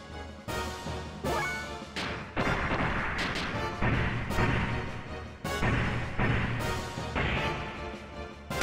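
A big rifle fires in the video game Xenogears, several loud, heavy blasts with crashing, ringing tails spaced a second or two apart, with no talk.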